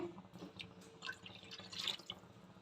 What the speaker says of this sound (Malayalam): കുറച്ച് വെള്ളം കൂടെ ആഡ് ചെയ്ത്